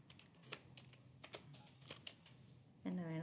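Computer keyboard typing in Microsoft Word, a run of light, irregular key clicks at close range with soft background noise, ending in a brief tonal hum.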